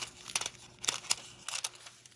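Scissors snipping a corner off a piece of paper, a few quiet crisp cuts in an uneven rhythm, close and faint with no talking.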